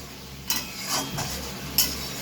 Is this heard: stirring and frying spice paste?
yes